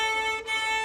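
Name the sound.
violin bowed too close to the bridge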